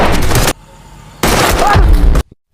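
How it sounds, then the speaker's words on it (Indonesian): Gunfire in an action film scene, two loud sustained bursts of shots and booms separated by a brief quiet stretch, harsh and close, with the second burst ending abruptly. "Terdengar suara tembakan yang membuat Po panik."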